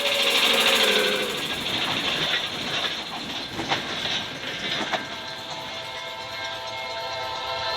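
A Norfolk Southern freight train passes close by, with a steady rumble and rhythmic clickety-clack of wheels over rail joints that fades slightly toward the end.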